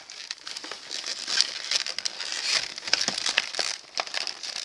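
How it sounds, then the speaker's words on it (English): A plastic blister package around a Porter Cable PN350 palm nailer being cut open, close and crisp crinkling and snipping crackles in quick irregular bursts, with no talking. "we'll just cut this blister package open and then be able to get to our tool"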